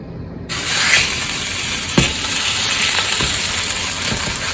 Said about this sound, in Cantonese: 放塊豬扒落去先